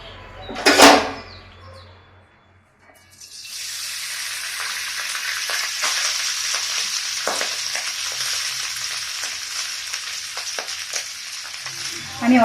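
Cooked rice hits hot ghee in a pan (kadai) for a fried rice, starting with a sharp sizzle burst, a short lull, then a loud steady frying hiss with scraping stirs that runs on to the end.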